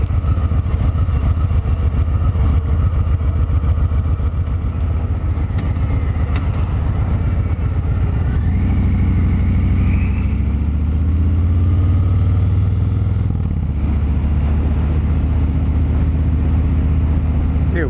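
Motorcycle being ridden, a steady mid-pitched engine drone throughout with a shifting tone as speed changes, under constant wind noise.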